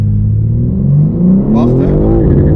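A 2023 BMW M3 CS G80, two-wheel drive with aids off, revs hard at full throttle on damp pavement, its engine note climbing loud and close with a brief wheelspin flare near the end.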